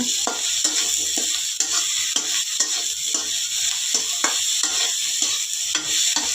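Blanched cauliflower stirred and fried in a hot pan for a dry fenugreek-leaf palya, a continuous sizzle broken by regular scraping strokes of the spatula, close and unaccompanied by speech.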